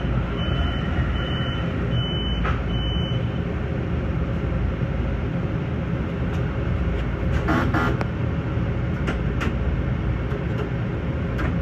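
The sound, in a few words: Long Island Rail Road train running toward Penn Station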